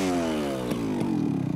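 A motorcycle engine revs close by, a loud rising harmonic drone that climbs in pitch, with a couple of sharp clatters near the end as the revving sweeps upward.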